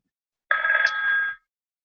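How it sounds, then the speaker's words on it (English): A telephone gives one short electronic ring of about a second, loud and close, against otherwise silent surroundings. "And I've got a phone call."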